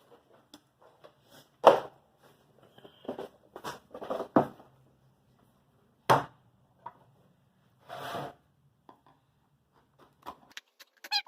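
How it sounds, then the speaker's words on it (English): Rotted wood being chiseled out of an exterior door: sparse, close knocks and scraping bites of the blade, irregular and separated by quiet gaps, with a few light scratchy taps near the end. "Chisel it out."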